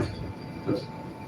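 A Moscow metro train runs along the line with a quiet, steady rolling hum and a brief wheel squeal midway, heard from inside the carriage.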